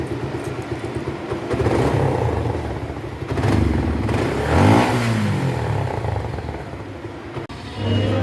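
A Suzuki Gixxer motorcycle is ridden along a road toward a garage. Its engine hums close by and rises and falls as it revs and accelerates, with some rattling and passing traffic mixed in.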